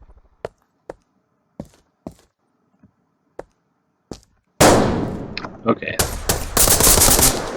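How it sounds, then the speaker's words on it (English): Sniper rifle shots ring out in a video game, several sharp isolated cracks spaced apart, then a dense, loud burst of rapid gunfire and impacts; a voice briefly speaks. "Clearly the sniper rifle is not my weapon of skill."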